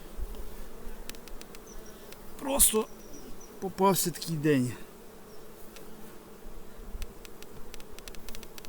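Steady buzzing of many honeybees at an apiary fills the background throughout, with a person speaking briefly over it midway.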